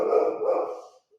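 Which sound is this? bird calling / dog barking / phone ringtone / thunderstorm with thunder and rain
dog barking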